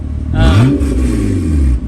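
A Firebird's engine revs up loudly and holds a deep rumbling roar, with its pitch rising then settling, close by.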